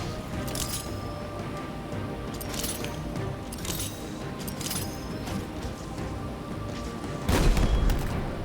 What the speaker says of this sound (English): Just pepper the cave with grenades.